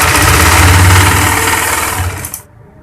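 An electric sewing machine stitches baby jabla frock fabric with a loud, steady whirring run. It stops abruptly near the end, leaving near silence.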